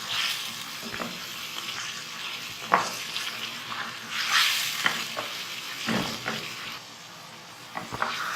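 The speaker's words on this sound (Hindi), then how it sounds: "अब ये हमारा चिकन जो है बिल्कुल अच्छा सा भुन गया है" Chicken fries in a spiced masala for a basic curry, a steady close sizzle and hiss with occasional stirring scrapes and taps in the pan, no voices present.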